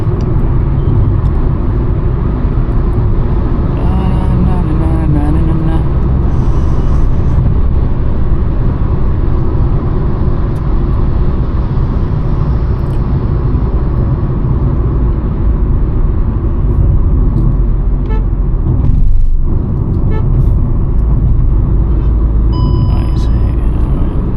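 A Hyundai i20 N Line being driven hard gives a steady, loud engine and road rumble heard from inside the cabin, a continuous drone with a brief dip near the end.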